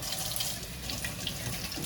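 Cold tap water runs steadily over a pet water fountain filter, a close, continuous splashing hiss under a faucet with no talking.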